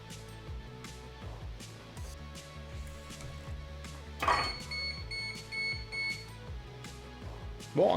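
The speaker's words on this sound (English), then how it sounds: "it's the multimeter. Oh, didn't know it beeped." A multimeter sits on a workbench during a soundbar repair, beeping in short tones amid clicks and clatter, with a brighter sustained beep midway through, close and moderately loud with no talking.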